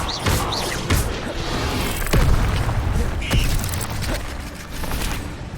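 Incendio fire spell cast in Hogwarts Legacy, a burst of booming whooshes and thuds with sharp crackling hits scattered through a dense, busy game soundscape.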